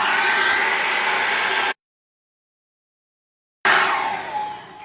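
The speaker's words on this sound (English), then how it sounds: "I'm just going to dry that with a hairdryer" Hairdryer blowing on a wet painting, a loud steady broadband whoosh that cuts out abruptly into silence, then starts again close to the microphone and tapers off slightly.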